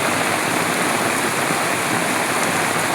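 Dense, unbroken hiss of heavy rain pouring down, loud and steady throughout with no voices.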